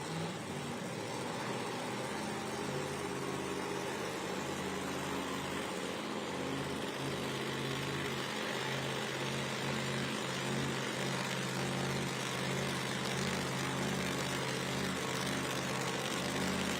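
Nitrous-fed and supercharged drag race car engines at an outlaw nitro drag meet, a steady loud roar with rumbling low harmonics held throughout, no voices.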